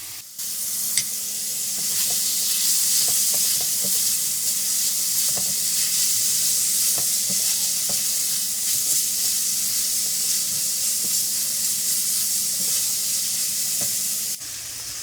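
Beef tikka masala frying in a karahi gives a loud, continuous sizzle close by, with repeated ladle scrapes and clinks throughout and no talking.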